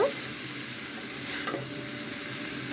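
Vegetable curry with sago stirred in a pan, a steady close sizzle with spoon scrapes and one sharper clink partway through, no voices.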